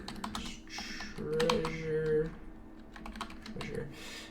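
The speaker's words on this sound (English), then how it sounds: "I got a new keyboard, still getting used to typing on it." Quiet clicking keystrokes come in short irregular bursts on a new computer keyboard, with someone talking over the middle of the typing.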